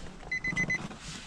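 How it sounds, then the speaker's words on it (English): A Nissan 350Z's door-open warning chime, four short evenly spaced electronic beeps over a low garage hum. "Close the door so stop all that beeping."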